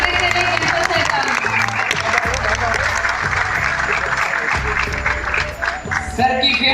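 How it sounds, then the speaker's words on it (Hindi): Loud, sustained applause from a large audience at a university cultural event in Delhi, steady dense clapping filling the whole stretch, with music and voices underneath. "एक बार फिर से जोरदार ताली के साथ स्वागत करें गणपत सर का।"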